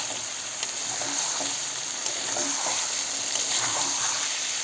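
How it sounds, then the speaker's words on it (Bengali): Meat fries in a pan while being stirred, a steady close sizzle with wet splattering and intermittent scraping of the utensil, continuing evenly without pause. "নাড়াচাড়া করতে আছি কারণ নাড়াচাড়া না করলে চলে আবার লেগে যেতে পারে"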